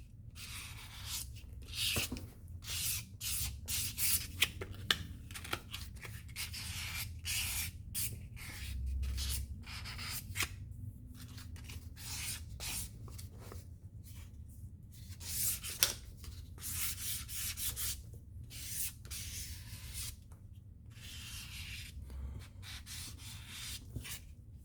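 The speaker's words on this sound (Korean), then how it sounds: "이걸 이제 다듬어 줄 때는 사포는 600방 정도가 적당해요." A metal lock fitting on a luxury bag is rubbed with 600-grit sandpaper, making a steady close scratchy rasp in quick repeated strokes with no talking.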